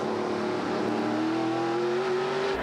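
A stock race car in a NASCAR Pinty's Series race at the Sunset Speedway stumbles briefly, then its engine climbs steadily in pitch as the throttle opens. The drone stays loud and continuous, with other cars running nearby.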